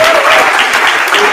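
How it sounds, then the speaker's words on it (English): Short burst of audience applause at a live event, broadband clapping with a little overlapping voice, loud and steady throughout. "A round of applause for"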